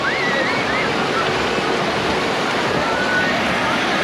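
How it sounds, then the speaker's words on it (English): Steady rushing water fills the clip, a continuous broadband wash of waves churning in an RV resort wave pool at Lake Lanier, Georgia, with faint distant voices and a brief whistle-like tone early on. "We're here at the pool. Look at this. It's a wave pool."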